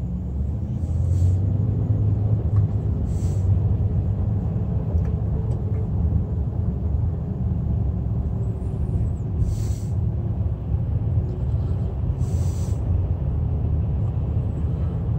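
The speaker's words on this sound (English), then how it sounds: "she's getting on the brakes," Car cabin interior while braking and slowing in stop-and-go traffic with adaptive cruise control on a Chevy, a steady low road rumble with a few faint high chimes and clicks and no talk.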